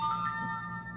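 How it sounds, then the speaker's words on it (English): A phone ringing faintly in a quiet room, a steady electronic tone sustained for about a second with nobody speaking over it. "that's my phone"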